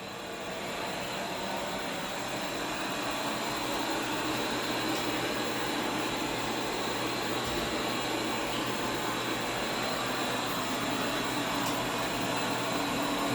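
Coredy R650 robot vacuum cleaning a floor and working into the corners, a steady, continuous whirring hum with broadband suction noise, close and constant throughout with no talking.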